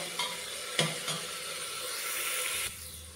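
Onion paste fries in a pan over a low gas flame with a soft, steady sizzle, broken by a few brief stirring scrapes close by.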